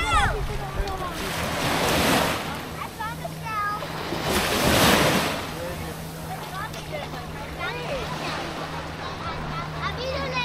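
Waves wash onto the beach at Tanjung Bungah, Penang, with surges swelling and fading over steady wind rush, while people and children talk nearby.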